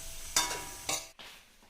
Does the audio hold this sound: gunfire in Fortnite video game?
no